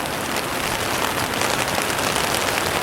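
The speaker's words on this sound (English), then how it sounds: "you will see the rain is returning." Steady rain falls in a Norwegian valley near a dam with a small river below, a continuous, even hiss of drops on surfaces with no voices over it.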